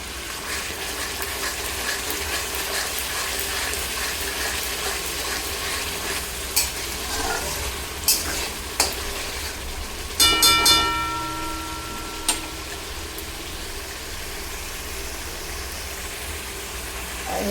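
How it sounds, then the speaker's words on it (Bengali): Spices fry in hot oil in a pan with a continuous soft sizzle, punctuated by a few sharp clinks and scrapes of a spoon stirring, close up and without speech. "মশলাগুলো কষা হচ্ছে"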